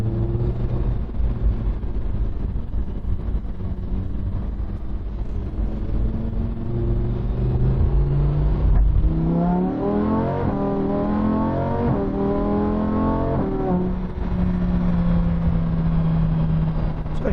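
Lamborghini Huracan engine heard from inside, a loud steady drone that climbs in pitch as it accelerates through the gears, with audible shifts breaking the rising whine before settling into a lower roar.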